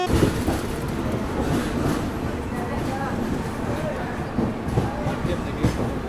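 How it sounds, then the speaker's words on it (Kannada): The Dakshin Express passenger train rumbles along the rails near Chandrapur with a steady low roar and faint rhythmic clatter, voices murmuring underneath. "ಈಗ ನಮ್ಮ ಟ್ರೈನ್ ಎಂಟ್ರ್ ಆಗೈತೆ ರೀ ಚಂದ್ರಾಪುರಕ್ಕೆ."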